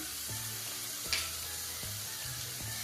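Tomatoes with salt and turmeric powder frying in a pan give a soft, steady sizzle, broken by several low knocks of stirring and a brief brighter splash, quiet and close with no voices.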